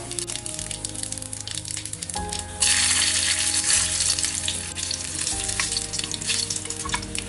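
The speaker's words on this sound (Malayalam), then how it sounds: "കടുക് പൊട്ടിക്കഴിയുമ്പോൾ നമുക്ക് വറ്റൽ മുളക് ഇടാം." Dried red chillies and mustard seeds fry in hot coconut oil for a kalan tempering, a close continuous sizzle that swells louder midway as more goes into the pan, with faint stirring scrapes.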